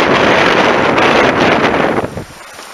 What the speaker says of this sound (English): the wind has picked up significantly